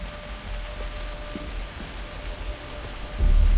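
Steady rainfall in the video game Kena: Bridge of Spirits, a dense even hiss of drops with a low rumble swelling near the end, no voices.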